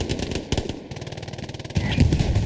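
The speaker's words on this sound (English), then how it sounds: "Puma finally realizes he has a cannon on that thing" Rapid shots from a tank in the World War II shooter Hell Let Loose, a quick run of sharp blasts close together, loud and near, with a heavier boom near the end.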